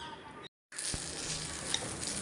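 Turkey berries being washed in water in a home kitchen, giving a steady faint splashing and running-water wash with a brief silent gap, no voices.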